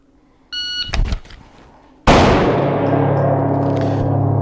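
A shot timer's electronic beep opens a pistol draw drill at seven yards, then a sharp clack of handling follows, and a loud close gunshot ends it with a long ringing decay.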